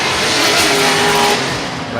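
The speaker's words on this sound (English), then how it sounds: "The big naturally aspirated V8 LS7 base car of Odi Bashi's causing a ruckus here at Odaiba." A naturally aspirated V8 LS7 drift car roars loudly at a drifting cup qualifying session at Odaiba, a sustained close engine blare with hints of tyre noise.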